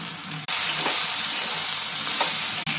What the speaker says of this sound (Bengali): পোস্তটা দিয়েছি, এখন একটু ভাজা ভাজা করে নিলাম।